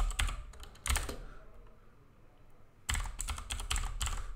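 Computer keyboard clattering as PHP code is typed for a login page, two quick bursts of close, rapid keystrokes separated by a pause of near silence.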